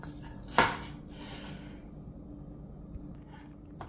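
Minced parsley, garlic and onions mixed by hand in a bowl, one clear clink of utensil against the bowl followed by soft, quiet stirring and scraping.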